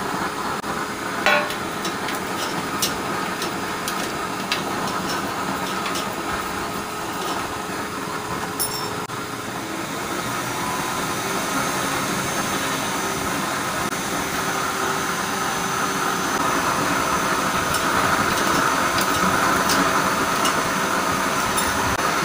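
A used oil burner stove with a lid running on cooking oil, giving a steady, continuous roaring rumble with faint intermittent ticks, close and unchanging throughout.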